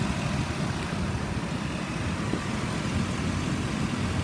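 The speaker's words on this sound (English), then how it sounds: "It idles smooth, revs up nice." A 2006 Ford E-350 XL 12-passenger van idles close by, giving a steady, even engine rumble with no revving and no voices.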